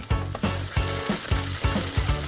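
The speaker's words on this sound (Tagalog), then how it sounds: "igigisa na natin yung aromatics natin. Igisa lang natin ito ng mga few seconds hanggang sa mag-translucent yung ating shallot at garlic" Shallot and garlic sauté in a hot pan with a loud, steady sizzle, broken by quick, regular stirring scrapes about every third of a second.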